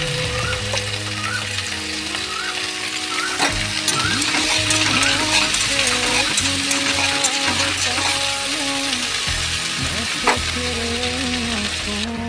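Cut okra sizzling in a pan of frying potatoes for an okra and prawn dish: a steady, loud crackling fry with bursts of spitting and occasional stirring clatter, no voices.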